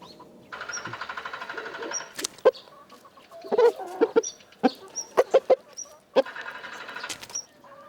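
Chickens clucking in an autumn farmyard as they are fed, a series of short, sharp clucks and calls close by, with stretches of louder rapid cackling at the start and end.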